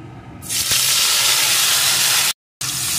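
Whole spices such as cumin seeds hit hot oil in a pan for a tempering while cooking a vegetarian cauliflower paneer curry, giving a loud, steady sizzling hiss that runs unbroken apart from one short silent gap.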